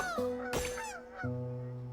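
Cartoonish birds honk and squawk in a Genshin Impact minigame, a few loud goose-like calls over steady game music.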